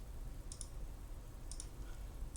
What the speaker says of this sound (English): How do I do this on a stinky old calculator? I guess we're typing in 64.